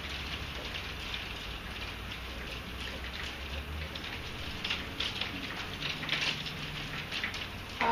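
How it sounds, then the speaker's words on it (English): Hail falls outdoors as a dense, steady patter of small hits, fairly soft and continuous, with a few slightly louder impacts toward the end. "Oh gosh, it's hailing."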